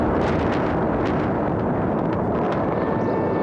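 Bomb explosions in shock and awe airstrikes on Baghdad make a continuous loud, rumbling roar of blasts that fills the air, heavy and distant-sounding with no talk.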